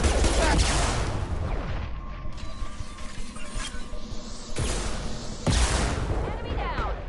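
Shotgun fire in the video game Mass Effect 2: heavy, loud blasts in a busy firefight, with a burst at the start and sharp reports near the middle and end over continuous battle noise and mechanical clatter, with voices in the mix.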